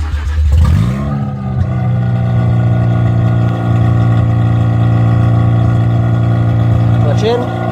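A car engine cranks and catches near the start, then settles into a loud, steady idle and rev in neutral that holds for several seconds, close to the microphone, with a brief burst of sound near the end.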